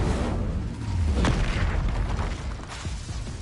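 A fire spell cast in Hogwarts Legacy, a dull booming whoosh of flame over a steady rumbling game backdrop with a short flare near the middle.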